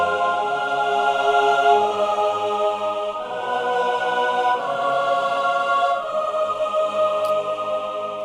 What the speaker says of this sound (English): And then all the choirs together sounds like this.